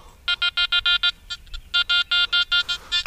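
Metal detector on a beach giving a signal: a run of about a dozen clear, loud electronic beeps in a quick regular rhythm, with a short gap midway before the beeping resumes.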